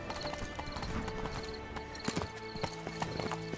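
Hooves of Geralt's horse Roach from The Witcher video game clip-clop in a steady, even trot. The hoofbeats are close and moderately loud, with sharper accented strikes toward the end.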